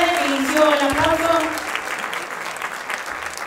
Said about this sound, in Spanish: Pueden aplaudir, pueden aplaudir.